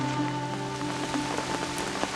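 Summer rain falls steadily in the Peak District, a soft continuous patter with scattered drop hits under a faint, steady background tone.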